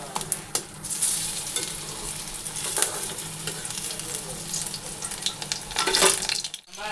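Leaf fritters (bora) stuffed with onion, coriander leaves, salt and turmeric fry in a pan, giving a loud, steady sizzle and crackle up close with occasional stirring scrapes.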